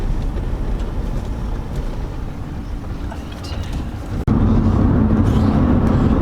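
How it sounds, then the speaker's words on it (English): Steady low road rumble from inside a moving car following a cycling race, a continuous broadband drone with a sudden bump partway through, then a louder, heavier rumble, no talk. "we are in the car now on the move"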